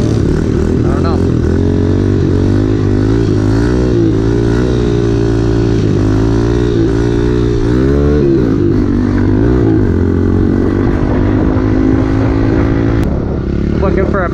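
A pit bike engine drones loud and steady throughout a ride, its pitch rising and falling as it revs on an abandoned dirt track, heard up close with wind noise.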